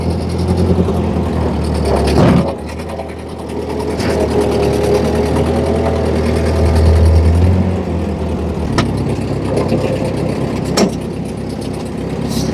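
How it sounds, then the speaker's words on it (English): A Ford 8N tractor engine runs steadily while reversing up an incline, giving a constant close chugging drone with a few sharp clunks and small swells in load. "on this incline, the tractor has no problems running at all."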